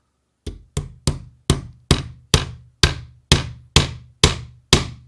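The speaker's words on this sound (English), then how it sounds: "That's actually not a bad hammer, especially for a small nail" A hammer with a heavy head drives tiny nails in eleven sharp, evenly spaced strikes. Each blow is loud and close, with a short ringing decay, and no one speaks.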